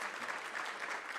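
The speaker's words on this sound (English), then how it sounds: "May you give them the round of applause?" A seminar audience claps for its speakers in a short, steady patter of applause, moderately loud and without voices.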